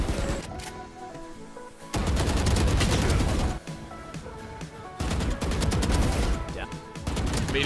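Close-range gunfire in Valorant, rapid bursts of automatic shots in loud clusters separated by brief pauses, with a voice talking faintly underneath.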